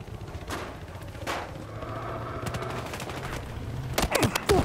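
Automatic gunfire in the video game Battlefield Hardline, with rapid bursts crackling over a steady rumble of battle noise and a dense, louder volley of shots near the end.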